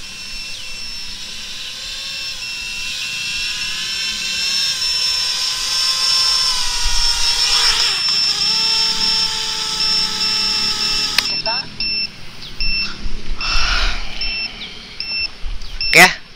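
A 7-inch FPV drone on a 6S2P 8000 mAh battery pack flies with a high, steady propeller whine that dips and wavers, then lands amid beeps and thumps, with someone talking over it.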